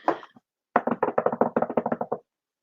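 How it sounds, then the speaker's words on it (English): Knocking on wood, heard as a quick, close run of about fifteen sharp knocks in an uneven rhythm, following a short burst of sound at the start. "I need to knock on wood."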